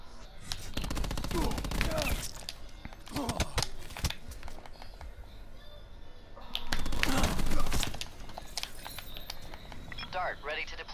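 Rapid bursts of automatic gunfire and single shots in a first-person shooter match, a dense, loud volley of cracks and rattles with in-game voices talking over the shooting.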